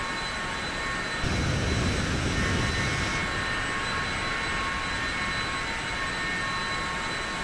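A Cessna Citation C680 Sovereign business jet in a flight simulator gives a steady, loud engine roar with a constant high whine, unbroken throughout.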